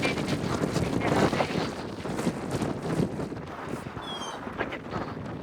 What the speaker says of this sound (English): It is a little bit of a windy day